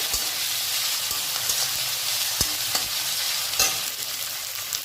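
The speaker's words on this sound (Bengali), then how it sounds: "এবার এটাকে একটু নাড়িয়ে নেব, ভালো করে মিক্স করে গেল।" Steady sizzling of ginger and garlic in a hot pan with scraping strokes of a spoon stirring through it, close and continuous, no voices.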